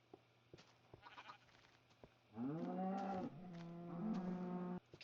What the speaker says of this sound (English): Cows are really loud.